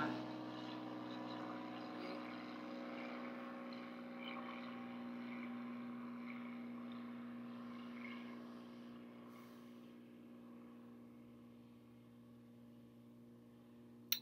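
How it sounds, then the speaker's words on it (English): Steady roar of a jet aircraft taking off, a continuous engine drone with strong low tonal hum that holds loud for most of the stretch and then gradually fades, with no talking. "You've got a jet taking off right there for you"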